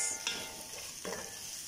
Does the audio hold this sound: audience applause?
no